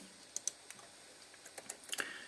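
A handful of sharp computer keyboard clicks, sparse at first then bunching into a short burst near the end, close and quiet in a still room.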